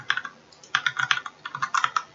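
Fingers typing on a computer keyboard to log in as administrator, with quick clusters of close, crisp key clicks separated by short pauses and no voice.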